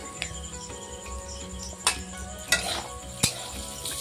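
Pieces of pointed gourd are stirred as they fry in a pan, with a soft sizzle beneath and a few sharp clicks and scrapes of the utensil against the metal.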